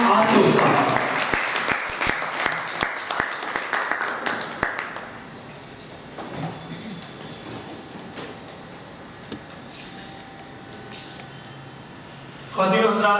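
An audience at a book launch ceremony applauds loudly and steadily for a guest for about five seconds, then the clapping thins out into quiet room noise, with a brief burst of voices near the end.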